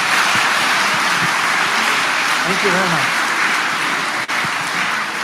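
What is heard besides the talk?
audience applause for colleagues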